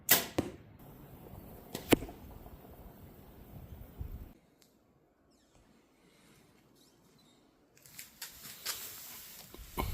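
Arrows are shot outdoors, with sharp, close swishes and thuds at irregular intervals, a quiet gap in the middle, then a denser cluster of impacts near the end.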